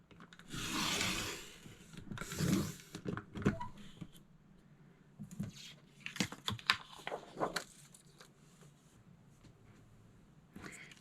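Paper strips for a scrapbook layout are sliced on a paper trimmer, with close rubbing and scraping strokes in bursts, sliding blade sounds and soft taps between quieter pauses.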